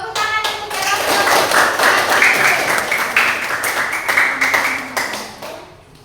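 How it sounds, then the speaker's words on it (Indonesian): Students in a classroom clap for a presenting group, a close, crisp burst of many hands tapping in quick irregular rhythm that swells and then tapers off. "Tepuk tangan untuk kelompok."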